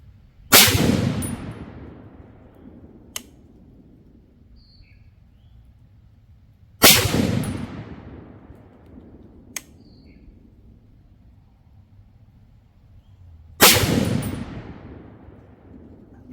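Three loud, close rifle shots from a Bear Creek BC8 chambered in .30-06, fired outdoors several seconds apart, each a sharp blast followed by a long decaying echo, with faint metallic clicks between shots.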